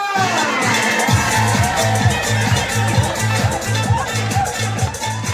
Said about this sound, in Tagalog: parinig naman po ng isang malakas na palakpakan na may kasamang hiyawan!